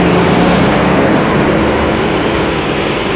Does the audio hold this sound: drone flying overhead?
yes